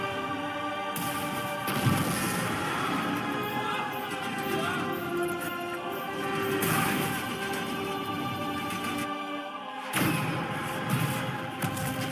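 Starship barrage fire in the video game Mass Effect 3, a dense, rumbling wash of crashing booms and thuds over a sustained musical drone, with heavier impacts near the start and again around ten seconds.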